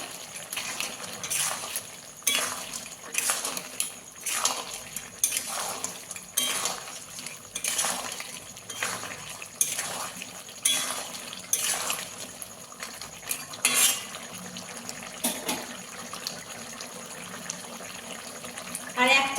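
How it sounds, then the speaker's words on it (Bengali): A spoon stirs crab curry with potatoes in a metal pan, giving repeated scraping clinks in a steady rhythm throughout, close and moderately loud. "ভালো করে নাড়াচাড়া করে নেবো"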